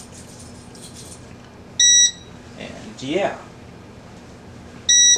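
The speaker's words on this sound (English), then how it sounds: "which is a fire alarm control panel" A fire alarm control panel sounds two short, loud electronic beeps a few seconds apart over faint room noise, with a brief spoken voice between them.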